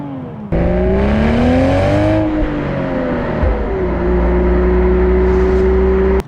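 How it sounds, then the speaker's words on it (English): 2023 Toyota GR Supra with manual gearbox, its engine loud and close, revving with rising and falling pitch sweeps as automatic rev-matching blips the throttle through shifts, no talk. "I really love the auto blipping. It does a really good job of blending to the downshifts"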